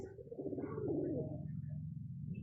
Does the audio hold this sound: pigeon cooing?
yes